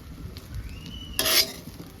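A spoon scrapes and stirs vegetable egg fried rice in a pan, soft shuffling with one brighter metallic scrape near the end, fairly quiet and without talk.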